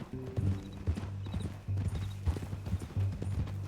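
Horse hooves clip-clop at a steady walking rhythm in the video game Red Dead Redemption 2, close and distinct, with a short whinny near the start.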